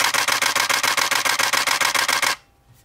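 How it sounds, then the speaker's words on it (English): A Nikon DSLR shutter fires in a rapid continuous burst at 7 frames per second, a steady mechanical chugging of about sixteen crisp clicks, close and loud, then stopping abruptly into near silence. "you could kind of just hear the 7 frames per second chug by"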